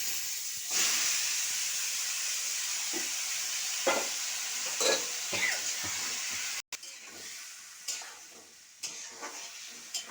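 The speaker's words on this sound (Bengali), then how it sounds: "এখন আমি মাংসটা কড়াইতে ঢেলে নেব" Loud hissing sizzle as chicken hits a hot wok, with steamy crackling and occasional scraping stirs, briefly cutting out midway before resuming.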